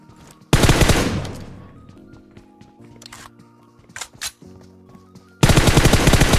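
A Groza rifle in a shooting video game fires in two loud, rapid full-auto bursts, one near the start and one at the end. Faint movement and footstep-like clicks fill the gap between them.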